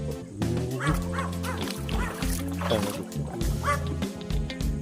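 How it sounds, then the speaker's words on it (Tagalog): A dog barks and yips repeatedly in short bursts at night, fairly close, with the watery background of a river underneath. "Aso."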